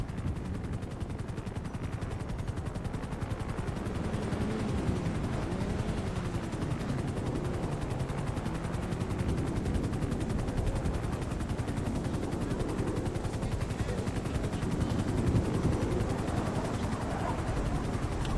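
Police helicopter rotor droning steadily overhead in a GTA roleplay game scene, with a continuous hum and scattered gunfire mixed underneath, loud and unbroken throughout.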